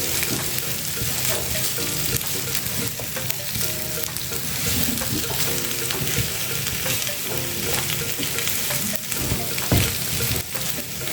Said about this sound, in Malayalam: കപ്പയൊക്കെ നന്നായിട്ട് ചൂടായി വരുന്ന വരെ ഒന്ന് മിക്സ് ചെയ്ത് കൊടുക്കുക.